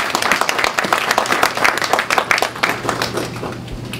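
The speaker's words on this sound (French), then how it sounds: "Acclamons-le." Audience applause with scattered cheers at a UDPS party anniversary gathering in Canada, dense steady clapping from a nearby crowd lasting several seconds without speech.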